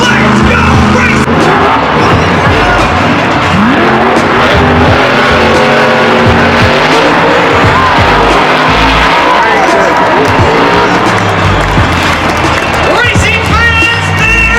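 Grave Digger monster trucks racing at a Monster Jam arena event, with loud roaring engines and revving under a cheering crowd, while an announcer talks throughout.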